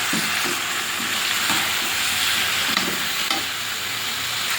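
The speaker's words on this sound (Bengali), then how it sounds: "এবারে এখানে মাংসটা দিয়ে এবারে ভালো করে কষিয়ে নেব।" Meat frying in a spiced masala that has already released its oil, with a steady loud sizzle and repeated scraping stir strokes throughout.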